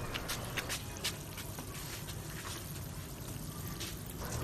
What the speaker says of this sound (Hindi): तो ये देखिए पानी नीचे से ड्रेन हो चुका है।